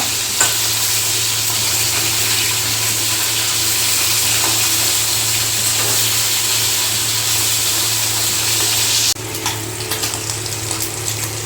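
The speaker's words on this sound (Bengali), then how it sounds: "মাছগুলো আমরা 2 পিঠ ভালো করে ভেজে নেব।" Koi fish fry in hot oil, turned to cook both sides, producing a loud continuous hiss and bubbling up close that drops abruptly near the end to a quieter crackle with faint stirring knocks.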